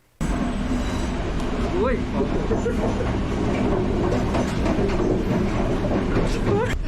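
A night train to Ella rumbles steadily along the rails with rhythmic clatter and occasional faint squeals, loud and continuous throughout.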